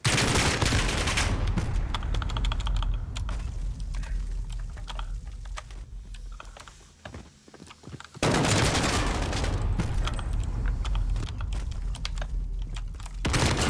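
Dense bursts of automatic gunfire and a flash grenade going off in a first-person shooter video game, loud and continuous with a brief lull midway before the shooting resumes at full intensity.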